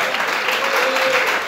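A church congregation claps steadily, dense and continuous applause filling the space, with a faint voice underneath.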